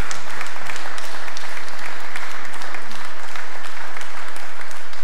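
A show audience applauding together, a dense loud wash of clapping that holds steady for the whole stretch without pause.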